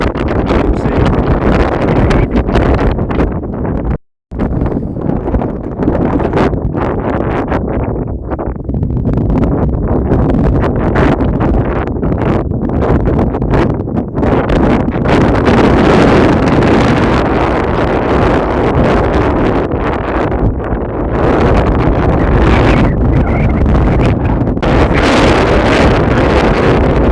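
Outdoors, heavy wind batters the microphone in a loud, continuous roar with rumbling gusts and one brief dropout.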